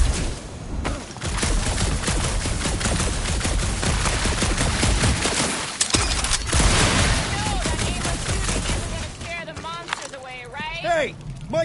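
Dense, continuous gunfire in a Marvel's Guardians of the Galaxy video game battle, rapid bursts layered with booms, with a voice talking over the shooting near the end.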